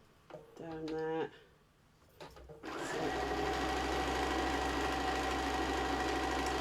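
A sewing machine runs steadily through piecing and quilting a small fabric mug mat, a loud continuous whir starting a few seconds in after a brief bit of nearby talk.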